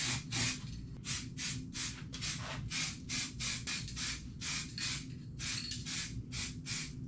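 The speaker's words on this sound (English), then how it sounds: "and we're ready to lay down some primer" A spray gun spraying primer in a paint booth on a 1930 Model A hot rod hisses in rapid repeated bursts over a steady low hum, close and fairly even throughout.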